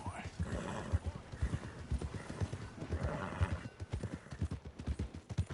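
Horse hooves clip-clop steadily in Red Dead Redemption 2 while the horse whinnies, close and clear, with a voice talking over the rhythmic hoofbeats.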